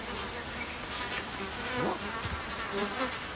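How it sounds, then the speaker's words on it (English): Bees buzzing in the video game Ancestors, a continuous insect drone with a few louder buzzing passes sweeping close by, with no talk over it. "now that I've discovered bees,"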